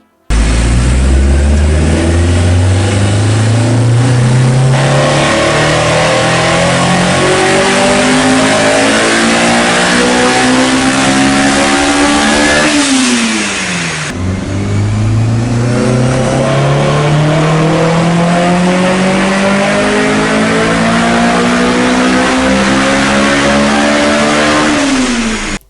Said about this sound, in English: We're gonna drop a video real quick to see this car on the dyno and hear it.